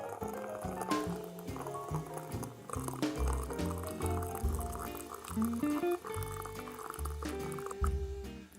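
Hot water poured over coffee grounds in a steady, continuous liquid stream, close and moderately quiet, running under background music.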